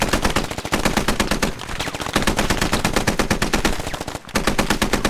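Dense, rapid machine-gun fire in the 100-player shooter Squad rattles loud and close almost continuously, pausing briefly twice before resuming.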